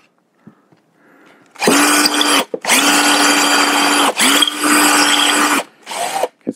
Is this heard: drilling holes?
yes